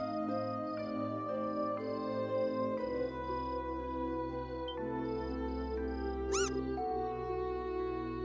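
A single short cat meow rises out of steady layered game music in Trails in the Sky, brief and moderately loud against the background.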